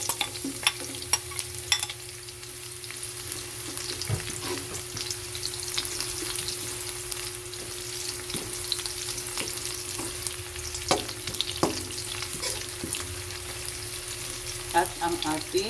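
Onions sizzling in hot oil for sweet and sour tilapia, a steady close frying hiss with frequent spatula clinks and stirring knocks, no talking.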